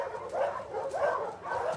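A dog whimpers and whines in The Last of Us Part II, with three rising, plaintive cries that follow one another steadily at close range and stand alone, with no talk over them.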